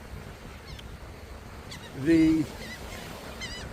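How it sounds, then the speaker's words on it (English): A gull gives one loud, nasal honking call on a New Jersey beach at Villas, a horseshoe crab spawning spot. Fainter bird calls and steady outdoor background surround it, and a person briefly speaks. "Look at some of these old school gulls."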